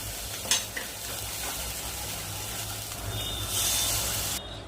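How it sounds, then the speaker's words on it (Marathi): A masala paste of green masala, coconut, tomato and cashew frying in a pan, giving a steady, close hiss and sizzle with a few soft stirring scrapes and a slight swell toward the end. "याला फ्राय करूया."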